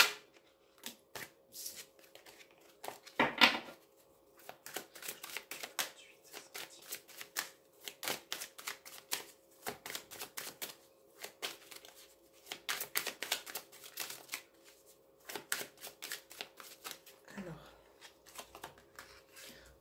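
Tarot cards are shuffled by hand for a reading: rapid papery riffles and flicks come in repeated bursts with short pauses between them, close and fairly quiet, while a voice is faintly present.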